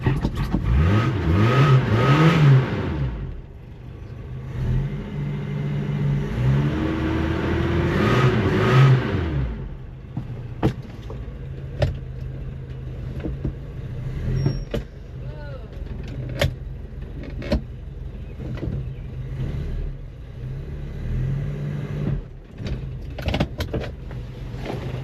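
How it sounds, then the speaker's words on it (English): A Toyota 22R engine in a cheap pickup truck being revved twice in strong rising and falling swells, then settling to a quieter steady idle with scattered clicks and knocks nearby. "There we go. Running truck."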